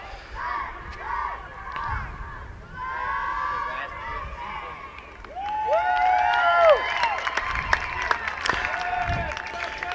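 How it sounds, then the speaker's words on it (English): Youth football cheer squad performing on the sideline before a Rio Grande 11u Ravens playoff game, with crowd noise, cheering shouts and scattered clapping building through the middle, carried by a steady outdoor hubbub. "So after the coin toss, we have some cheer performances from each team."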